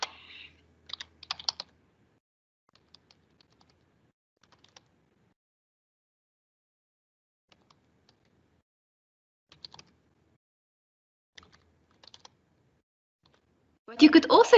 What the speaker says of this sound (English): So we are typing a few terms in that we know speaks to the